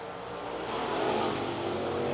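A late model race car accelerates hard down the backstretch during qualifying at Cherokee Speedway, its engine a loud, steady, unbroken roar that swells slightly as it goes.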